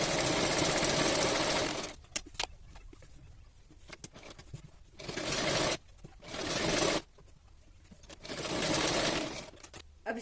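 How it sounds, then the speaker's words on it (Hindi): A sewing machine stitches a princess cut blouse in several loud, steady runs of rapid whirring, separated by short pauses filled with quiet handling and fabric noises. "अब इसके बाद यहाँ पर हम पूरे में सिलाई कर लेंगे।"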